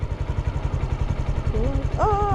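A motorcycle engine chugs low and steady at close range as the bike is eased away in first gear, its pulsing idle-like rumble carrying under brief bits of talk near the end.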